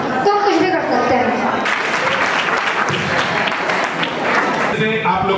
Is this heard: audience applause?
yes